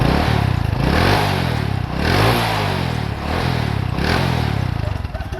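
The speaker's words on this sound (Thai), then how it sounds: "เรามาฟังเสียงสตาร์ทกัน ทั้งสองคันนะครับ" A 125cc motorcycle engine runs close and loud, its steady drone swelling and easing in a few repeated rev-like surges with some mechanical clatter underneath.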